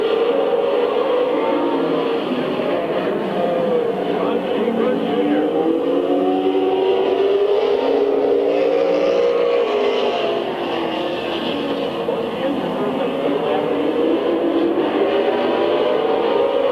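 Race cars lap Midvale Speedway in a steady, continuous engine roar that swells and fades slightly as they pass, with a commentator talking over the noise throughout.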